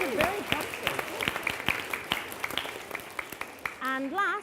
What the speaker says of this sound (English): So a big round of applause to those people.